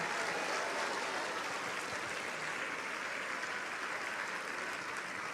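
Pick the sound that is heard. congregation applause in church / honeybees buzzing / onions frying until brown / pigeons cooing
congregation applause in church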